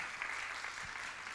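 An audience at a spiritual camp inauguration claps in a brief, steady burst of applause heard from a distance in a hall.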